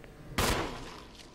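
A single loud gunshot in Resident Evil Remake, sharp onset followed by a decaying echo over quiet background.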